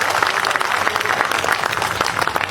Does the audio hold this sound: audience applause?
yes